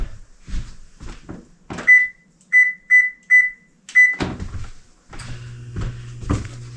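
An oven's control panel is set to 390 degrees Fahrenheit: several crisp electronic beeps from button presses follow a few soft knocks, then a clunk and a low steady hum.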